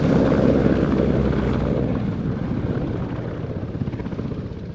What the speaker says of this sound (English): Another tremendous display from the Danish military came courtesy of the EH-101 Merlin from